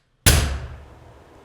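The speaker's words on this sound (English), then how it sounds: "the fire department told us to build security doors, so when they fall shut, they sound like this" A heavy security door falls shut with one loud, massive metallic slam, thickened by EQ and compression, its boomy ring fading out over about a second.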